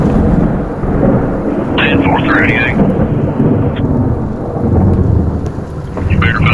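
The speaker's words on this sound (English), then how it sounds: "It's hail's coming down. Got downside, pinging my cruiser." Hail pelts a police cruiser during a severe storm, a dense, steady rattle with constant broadband noise throughout, while bursts of radio chatter and voices come and go over it.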